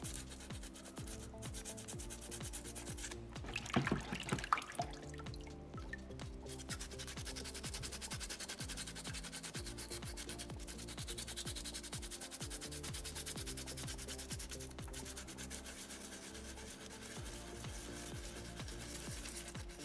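Sandpaper scrubbing steadily over a small soapstone orca carving, a continuous close rasping with dense rapid strokes throughout and one brief louder scuff near the start, no voices.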